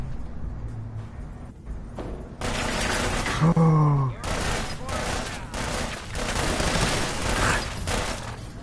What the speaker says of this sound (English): You see me with a fucking minigun